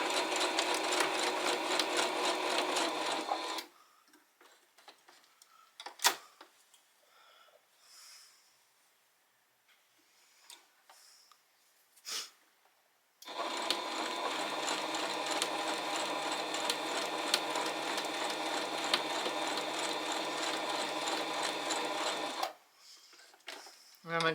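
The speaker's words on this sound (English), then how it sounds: "I'm going to get this all sewed on" Sewing machine running a straight stitch around a butterfly appliqué with white thread, a steady close whirring hum in two long runs separated by a quiet stretch with small handling noises.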